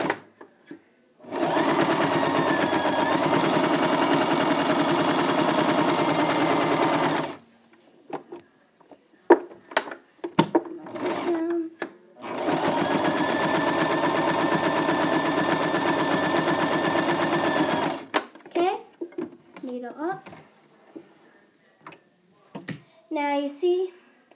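A sewing machine stitches a scarf in two long steady runs of several seconds each, with quieter handling clicks and rustles between and after the bursts.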